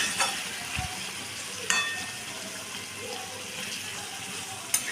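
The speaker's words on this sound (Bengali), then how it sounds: "এবার নাড়া দিয়ে একটু দেখি কতদূর হলো" Potatoes and eggplant cooking in a pot, stirred with occasional clinks of the spoon against the pot over a soft bubbling simmer.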